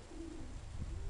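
A racing pigeon coos faintly in soft low murmuring notes at a loft during a race return, set against steady wind noise and background rumble.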